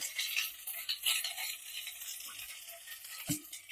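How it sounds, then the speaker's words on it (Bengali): Ginger-garlic paste and green chillies fry quietly in a pan while being stirred, giving a soft, steady hiss with light scraping and a sharper utensil knock near the end. "এই রসুন আর আদার কাঁচা গন্ধটা চলে যাওয়া পর্যন্ত একটু নাড়াচাড়া করে নেব"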